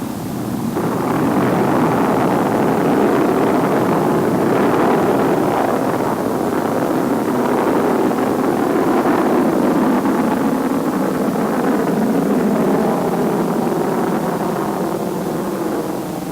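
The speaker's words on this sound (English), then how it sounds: "And right on the nose, the Atlas launch vehicle ignites." Atlas Agena launch vehicle at liftoff in 1966, its two booster engines and one sustainer engine igniting, giving a loud, sustained broadband roar that holds steady throughout without any voices.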